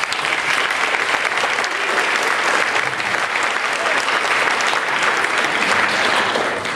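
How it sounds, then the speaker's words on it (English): A school festival audience applauds, a dense, steady wash of many hands clapping loudly and continuously from start to finish. "So, give yourself a round of applause."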